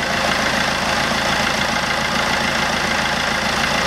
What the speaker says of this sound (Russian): Вот двигатель работает. Это уже радует.